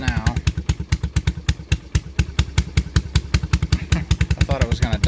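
A Yamaha Big Bear 350 ATV engine, under repair and awaiting a carburetor rebuild, runs at a steady idle, its loud, close exhaust pulses thumping in an even, quick rhythm throughout.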